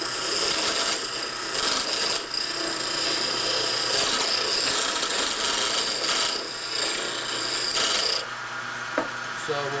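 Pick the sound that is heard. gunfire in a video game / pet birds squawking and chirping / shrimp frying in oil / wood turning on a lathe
wood turning on a lathe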